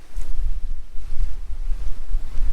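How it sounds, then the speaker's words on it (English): Spring-fed creek water pours out of an old mill near Fredericksburg, Texas, in a steady, close, low rushing flow with constant churning and no voices. "this is the water coming out of the mill"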